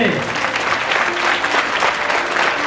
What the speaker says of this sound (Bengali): প্রভু জোরে করতালি দে।